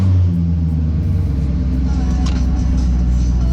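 A car engine runs hard on a dyno, a dense, loud low rumble that holds steady throughout the short stretch, with no voices over it.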